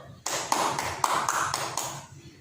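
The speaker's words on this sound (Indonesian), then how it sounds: "Beri tepuk tangan dulu." In a primary school classroom, children clap for a classmate in a quick, rhythmic patterned burst of about seven loud, close claps, followed by quieter room murmur.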